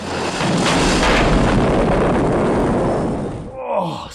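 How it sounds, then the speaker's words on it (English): A film explosion erupts from the 1965 Bond movie Thunderball as a loud, sustained roaring blast that rumbles for about three seconds and then fades, and a voice cuts in briefly near the end. "Explosion coming up."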